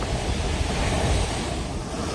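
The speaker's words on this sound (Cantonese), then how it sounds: "海浪不斷拍打岸邊" Typhoon-driven sea waves pounding the Kennedy Town waterfront, a dense, continuous roar of surf mixed with strong wind buffeting the microphone, loud and close with no voices.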